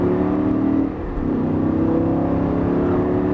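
Lamborghini Gallardo LP560 engine revving hard on a race track from inside the cabin, a loud steady drone with a brief dip near one second as a gear shifts, then climbing again.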